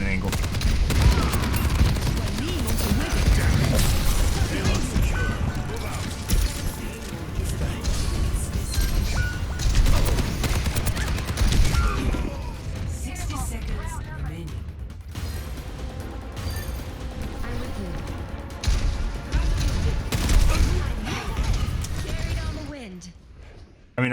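Gunfire in the team shooter Overwatch: steady bursts of weapon fire and explosive game effects run throughout, loud and dense, with a player talking over the action.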